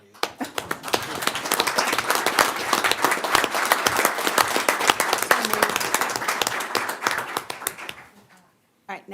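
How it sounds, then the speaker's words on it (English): A small group applauds after a school district board of education meeting adjourns, brisk irregular clapping that stays fairly close for about eight seconds, then stops abruptly with a faint sound at the very end. "Have to clap for you."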